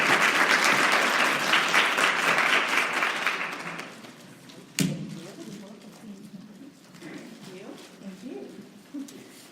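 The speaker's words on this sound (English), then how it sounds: "Let's give her a round of applause" Applause from an audience at an honors event in Mississippi, loud dense clapping for a presenter that fades out after a few seconds, followed by a sharp knock and then quieter room murmur and voices.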